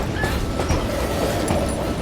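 A train rolls steadily on its rails in the Western video game Call of Juarez Gunslinger, a dense continuous rumble with faint clatter running throughout, with no voices.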